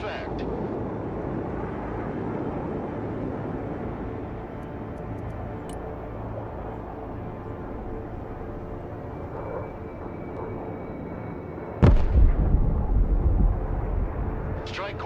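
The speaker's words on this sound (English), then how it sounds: "Airstrike is go for effect." Airstrike explosions in the Broken Arrow military video game: a sustained rumble of aircraft and combat noise, then a sudden loud blast near the end that keeps booming for a few seconds.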